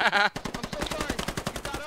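Rapid automatic gunfire laying down suppressing fire in a video game, a steady stream of closely spaced shots lasting nearly two seconds, loud and close after a brief shout.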